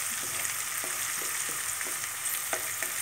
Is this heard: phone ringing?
no